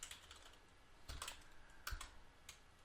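Quiet clicking of a computer keyboard as a web address is typed, a few quick keystroke clusters with brief pauses, close and soft, with no talk.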